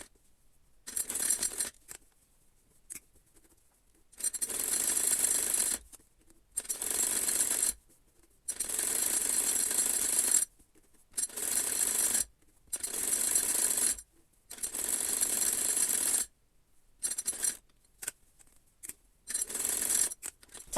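A home sewing machine runs in repeated bursts of a second or two each, separated by short pauses, while stitching pressed-down fabric seams on a hijab. The whirring is steady and fairly loud, and nobody speaks.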